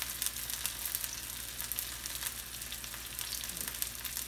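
Onion, bay leaf, cloves, pepper and cardamom sizzle in hot oil for tiranga bhat, a quiet, continuous crackling fry with scattered tiny pops, heard up close with no talking.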